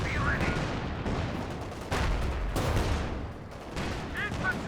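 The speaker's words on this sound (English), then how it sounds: "A lot of blows being exchanged here between these tank destroyers." Tank destroyers trade fire in a Company of Heroes 2 2v2 match, with dense, continuous booming shots and explosions layered over a busy battlefield din.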